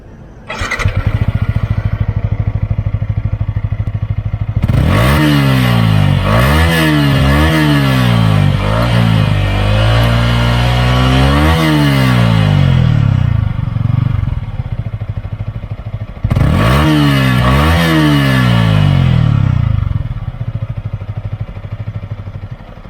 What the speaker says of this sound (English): I also love the deep tones of the idling engine because it's not the loudest nor the quietest.